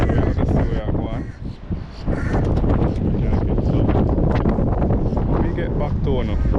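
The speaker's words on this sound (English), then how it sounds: "A little bit windy out here" Heavy wind buffets the microphone in loud, roaring gusts outdoors while fishing in Florida, with a voice talking underneath.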